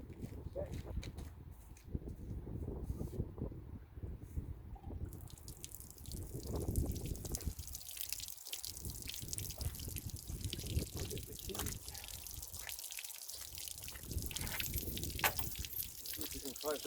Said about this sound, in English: So I'm just going to turn the water on.